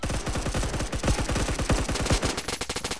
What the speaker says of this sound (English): I'm just shooting his face